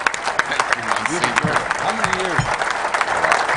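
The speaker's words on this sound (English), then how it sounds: "Everyone else up here gets applause." Audience applause for the toastmaster Doug at a 2005 induction ceremony, steady clapping throughout with a voice speaking over it and brief tonal voices near the middle.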